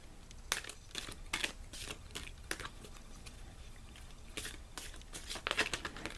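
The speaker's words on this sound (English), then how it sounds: "Now I'm going to shuffle a different way to look for cards that are sticking out." Quiet papery riffling and soft slaps of oracle cards being shuffled, in irregular bursts close by, with no voices.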